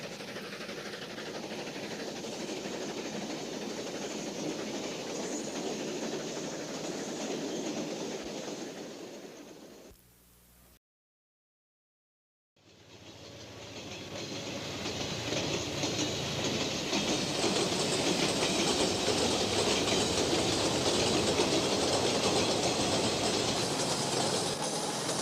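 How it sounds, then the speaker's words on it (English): The Pacific Limited steam-era passenger train rolls in with its heavyweight passenger cars, a loud steady rumble and clatter of wheels that cuts out briefly partway through, then resumes even stronger. "in time to see the Pacific Limited coming in with its full load of heavyweight passenger cars"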